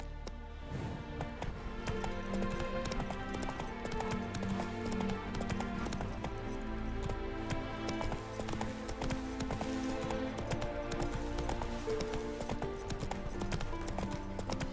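Roach, the horse in The Witcher 3, gallops in a steady rhythmic clip-clop of hooves over game music, with a faint voice in the background.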